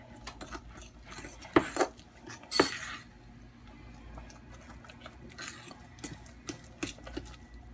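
Egg is stirred into fathead pizza dough in a bowl, with irregular clinks and scrapes of a utensil that sound loudest early on and then settle into quieter tapping, with no voices.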